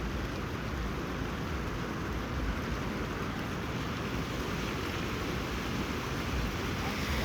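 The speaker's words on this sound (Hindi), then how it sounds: "देखो सामने भाई कितना प्यारे लग रही झरना।" A waterfall on the Menal river in Rajasthan roars in a steady, dense rush of water that holds constant throughout, with faint wind buffeting the microphone.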